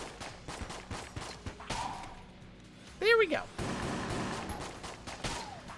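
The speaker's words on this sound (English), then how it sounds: "Now we can shoot you." Bursts of gunfire from the video game Enter the Gungeon, sharp repeated shots over game music and effects, with a rising whistling effect in the middle.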